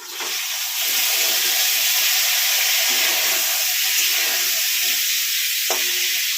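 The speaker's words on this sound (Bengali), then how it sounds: "এই যে এখানে আলু ভাজা হচ্ছে।" Potato pieces fry in hot oil in a pan for a fish curry, a steady loud sizzle and hiss with a few soft stirring scrapes and no talking.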